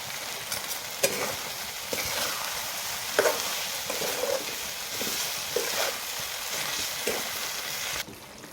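A leftover-chapati breakfast mixture bubbles and sizzles in a pan, a dense continuous frying hiss close by with scattered clicks and stirring scrapes, and no one speaking.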